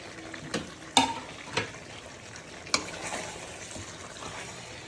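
Coriander, mint and green chillies go into a hot frying pan for chicken curry, giving a soft steady sizzle with a few sharp clicks and stirring scrapes of a utensil against the pan.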